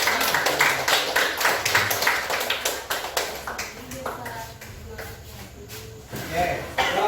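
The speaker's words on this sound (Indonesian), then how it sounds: "Tepuk tangan dulu untuk kelompok ini." A small group claps in a nursing teacher-training classroom, brisk uneven clapping that is loud at first, thins out in the middle and briefly picks up again, with voices talking through it.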